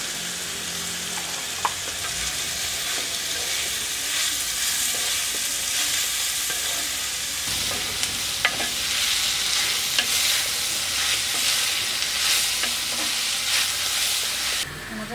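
Green chilies and chopped onions frying in a pan for a clam fry, a steady, loud sizzle with occasional scrapes and clinks of stirring throughout, no voices.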